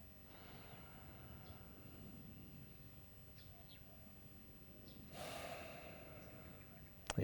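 Slow, soft nasal breathing during qigong practice, in and out through the nose, with a few quiet inhales and exhales. Near the end comes a stronger breath and a short bump.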